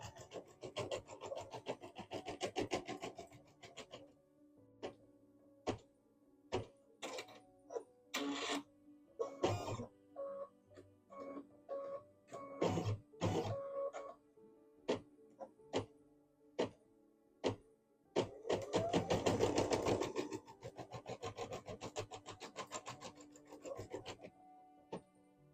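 An embroidery machine stitches out a placement outline on fabric, with a steady mechanical rasp and rapid needle ticks that swell into denser bursts around the middle and later on.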